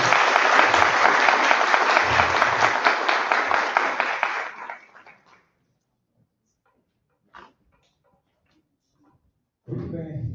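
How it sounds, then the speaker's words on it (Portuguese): Applause from a conference audience at a social-action event, dense and loud for about four seconds, then fading out into near silence, followed by a brief thump and a burst of noise near the end. "mais uma salva de palmas"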